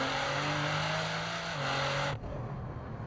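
A car engine in Gran Turismo 7 revs hard in first gear and bounces off the rev limiter, a loud, close buzzing howl with stepped pitch, cutting off abruptly near the end into a lower idle rumble.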